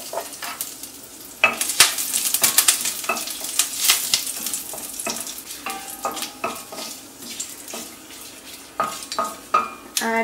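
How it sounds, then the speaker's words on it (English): Curry leaves hit hot oil beside a broken Kashmiri red chili while making chana curry, giving a close, busy crackle and sizzle with sharp spits and pops and a few utensil clinks. "Add a few curry leaves."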